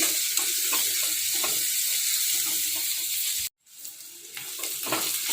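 Ginger garlic paste frying in hot oil, a loud continuous sizzle with scraping stirring strokes and a brief break before the hiss resumes.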